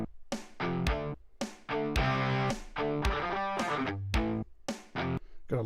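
Crunch-distorted electric guitar from the Riffler iOS app plays a punchy riff of short, staccato chord stabs separated by brief silences. It is loud and up close, with nothing else heard.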